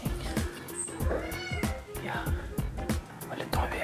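A house cat meowing nearby in repeated short calls, mixed with close speech and bumping handling noises indoors.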